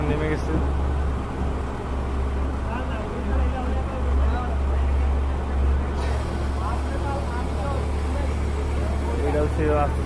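An excavator slowly coming down off a large truck, a continuous low diesel engine rumble with a few metallic knocks and shifts, with voices talking nearby over it.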